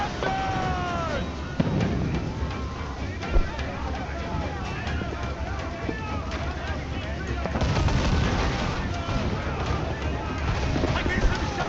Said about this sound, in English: Enemy fire! Got us that time!